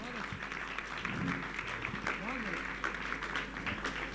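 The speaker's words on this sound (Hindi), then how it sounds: "एक बार मुझे तालियों से आदेशित कर दीजिए।" Applause from the audience at a Hindi comic poetry gathering, a steady wash of clapping heard at some distance, with a voice speaking over it.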